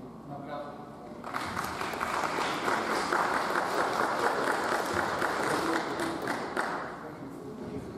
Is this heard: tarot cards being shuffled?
no